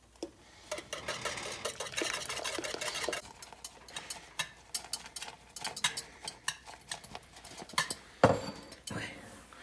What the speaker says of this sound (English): we are going to slowly add our tempered eggs back into here, whisking vigorously